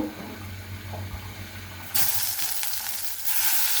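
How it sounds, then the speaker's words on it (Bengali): Eggplant slices for begun bhaja drop into hot oil and burst into a loud, steady sizzle that jumps up sharply partway through and swells again near the end. "তেলটা আমার গরম হয়ে গিয়েছে, এখন বেগুন দিয়ে দিব।"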